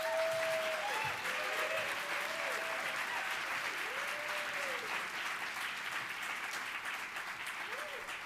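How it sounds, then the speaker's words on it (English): Applause from a CreativeMornings New York audience welcoming a speaker, a steady, fairly soft wash of clapping that runs throughout, with a few tonal whistles or cheers rising over it. "Please give a rock star round of applause for Adam Rubin."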